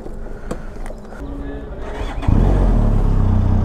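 A Benelli TRK 502X adventure motorcycle cranks with a few clicks and catches abruptly into a loud, steady idle. Someone talks over it just before the engine fires.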